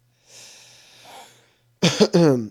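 A single close, harsh burst at the end sounds like a cough. It follows a quiet breathy rasp.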